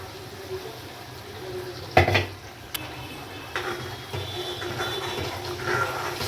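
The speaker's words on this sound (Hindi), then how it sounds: "ज़रा सा पानी इसमें डाल करके इसको हिला के ये वाला पानी भी इसमें डाल दूंगी।" Water is poured into a pan of spinach egg curry and stirred, with a loud splash followed by scraping and clinking of a spoon against the pan and a soft bubbling underneath.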